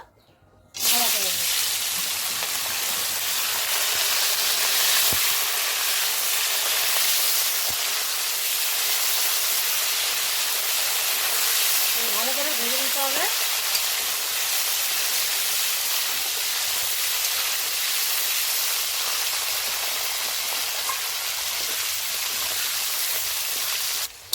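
Crab pieces frying in oil in a pan for a spicy crab curry: a loud, steady broadband sizzle runs unbroken throughout, close and alone, with a couple of brief faint tonal sounds midway.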